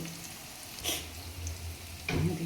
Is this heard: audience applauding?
no